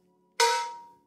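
A single strike on a Meinl steel cowbell damped by an attached magnet, a crisp metallic clank with a shorter, quieter ring that fades quickly; close and isolated.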